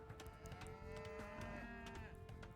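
Cow mooing in Age of Empires during a 1v1 Nomad map match, a steady, moderately loud call holding a sustained low tone over game ambience and short clicks, with no speech.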